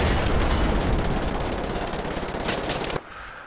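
A mounted turret fires in Wolfenstein: The New Order, a loud continuous stream of rapid automatic shots for three seconds that cuts off abruptly, leaving quieter background noise.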